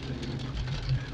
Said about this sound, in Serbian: Padne kiša, pokvari mi kampanju, pokvari mi snimanje emisije.